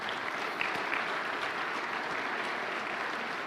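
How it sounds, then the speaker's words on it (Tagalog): A church congregation applauding during a sermon, a dense and steady clapping from many hands that fills the room at moderate loudness throughout. "Lakasan nyo yung palakpak nyo"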